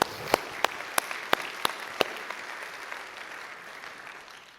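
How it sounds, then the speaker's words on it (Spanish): Church congregation applauding for Jesus during a service, a handful of sharp, separate claps early on that fade into a soft, sparse patter. "dale un fuerte aplauso a Él"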